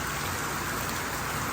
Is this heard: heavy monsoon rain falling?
yes